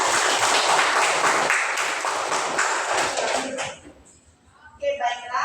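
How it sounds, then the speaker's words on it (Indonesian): Classroom students clapping together, a dense burst of hand claps for about four seconds that fades out, followed by a few voices talking. "kita kasih tepuk tangan"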